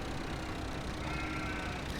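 Sheep bleat in a farming video game survival roleplay. Faint bleating sits within a dense, steady wash of ambient game noise.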